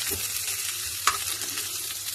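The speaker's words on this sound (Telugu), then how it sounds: "పోపు గింజలు వేస్తున్నాను చూడండి" Tempering seeds such as cumin and mustard crackle in hot oil with a continuous close hiss, marked by one sharp pop midway.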